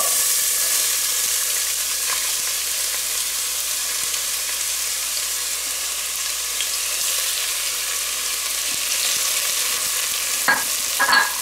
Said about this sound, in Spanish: Vamos a poner a freír aquí la cebolla.